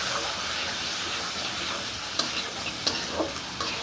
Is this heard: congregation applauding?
no